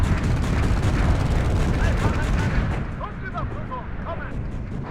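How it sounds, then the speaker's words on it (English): Artillery fire in the WARNO military strategy video game, a dense rumbling barrage of booms and blasts rolling continuously, loud and close, with radio-style voice chatter mixed in. "Getting a lot of artillery in this game."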